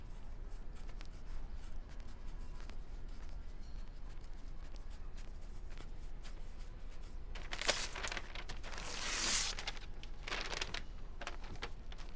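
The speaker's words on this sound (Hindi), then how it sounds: "मेरे आईडी कार्ड की इन्फॉर्मेशन इसी पेपर पर लिख दीजिए" Pen writing on a sheet of paper, a continuous soft scratching over a constant background hiss, with louder rustling of the paper toward the end, no voices.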